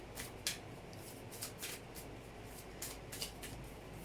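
Quiet, crisp riffling bursts of a deck of tarot cards being shuffled, repeating irregularly over a soft background hiss.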